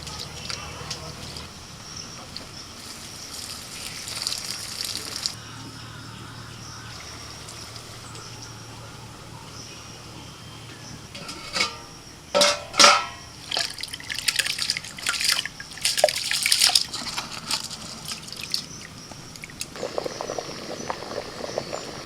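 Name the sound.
rain falling steadily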